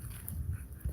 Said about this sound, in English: That's my dog, Gray Goose.